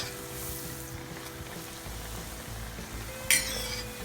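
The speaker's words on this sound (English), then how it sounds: "We are just going to go into our hot oil at this stage" Doubles dough for Trinidad and Tobago street food dropping into hot oil, a soft continuous sizzle with light clinks of utensils and a sharp bright burst of frying near the end.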